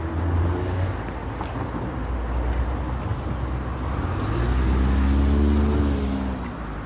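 A car goes by on a street near an embassy, its engine drone and tyre rush swelling to a peak near the end before easing off, with steady traffic noise underneath.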